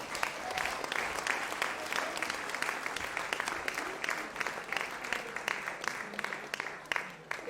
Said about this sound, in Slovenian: No pa dajmo en aplavz, pa musko.